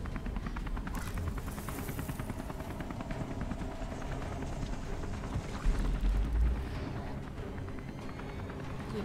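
A helicopter in the video game Beyond Two Souls, a loud, continuous rotor thrum with rapid rhythmic chopping and a heavy low rumble, swelling briefly near the end, no speech.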